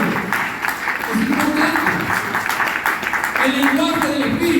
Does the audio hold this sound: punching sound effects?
no